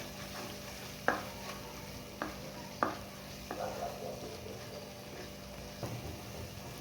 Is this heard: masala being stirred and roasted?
yes